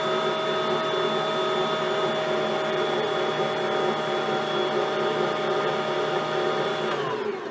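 An electric mixer beats chocolate chip cookie dough in a steady, loud motor whine with a constant pitch, running unbroken for over seven seconds before slowing at the end.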